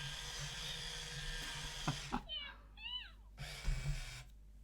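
A Teksta Purro interactive toy kitten gives a few rising electronic meows over a loud, steady whirring motor, with background voices talking around it.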